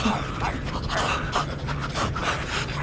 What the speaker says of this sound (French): Et provoque une respiration rapide, bruyante et extrêmement énervante.